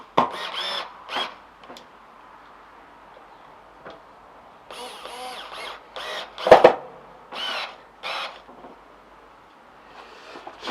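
A power drill deepening existing screw holes for a Warwick bass bridge, heard as several short whirring bursts with quiet gaps between them, one louder burst near the middle, close by and with no talk.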